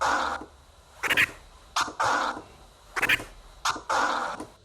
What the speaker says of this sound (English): So this first combination combines a crab scratch and a transformer.